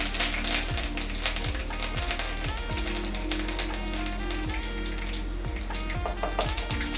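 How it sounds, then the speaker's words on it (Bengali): Curry leaves frying in hot oil for a tomato curry dal, a steady close sizzle with crackling running throughout, broken by repeated low thumps and scrapes of stirring, with no voices. "কারি পাতাটাকে একটু নেড়ে ভেজে"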